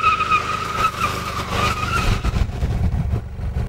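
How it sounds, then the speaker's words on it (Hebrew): A motorcycle without ABS brakes hard in an emergency stop on a dry road, its rear wheel locking and skidding with a rough scraping hiss and engine rumble, loud and close, a brief squeal near the start, nobody talking. "קל לראות כיצד הגלגל האחורי מפסיק להסתובב, ננעל לחלוטין ומחליק על הכביש"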